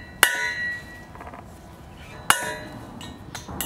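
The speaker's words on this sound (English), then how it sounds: "Try to get a punch in here so that the drill bit doesn't bounce around." Two sharp metallic taps, spaced about two seconds apart, from a hammer striking a center punch into metal, ring out over a low steady hum, with a few fainter clinks near the end.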